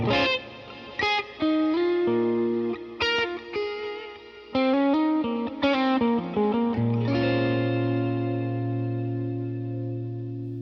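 Electric guitar played through a Line 6 Helix with distortion, chorus and reverb, sounding as a run of crisp, sustained melodic notes and chords that end in a long, ringing tail fading out, with no talking.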